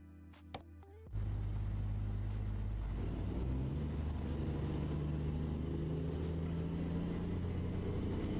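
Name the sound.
truck engine in Euro Truck Simulator 2 video game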